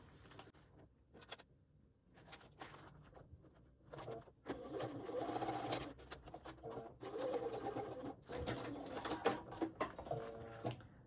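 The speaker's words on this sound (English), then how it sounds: "I'm going to stitch straight up this straight edge" Sewing machine stitching a straight edge of a fabric waist pack, with quiet handling noises first, then bursts of close, fast mechanical whirring that stop and start again.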